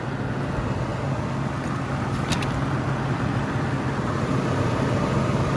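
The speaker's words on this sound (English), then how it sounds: "You can hear the condenser fan motor." Condenser fan motor on a warm walk-in cooler, with the compressor off, gives a steady, even whir and hum, loud and unbroken, with a faint brief clink partway through.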